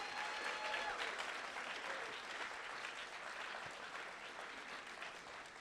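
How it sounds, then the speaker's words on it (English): Applause from a comedy show audience, a dense steady clatter of many hands that carries on for several seconds at moderate distance, easing slightly toward the end with no talk over it. "Give yourselves a round of applause for coming out this evening"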